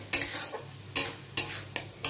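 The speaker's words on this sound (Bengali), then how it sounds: "তারপরে মশলাটা আমি কষাবো।" Spices being stir-fried with already fried potatoes, about five sharp scraping strokes of a utensil against the pan, each followed by a short sizzle, close and clear with no talk.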